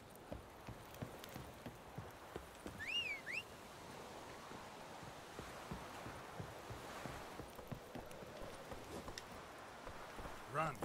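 Roach, a horse in The Witcher 3, gallops with steady hoof clip-clops under game music and ambience, a rider's voice speaking over the hoofbeats.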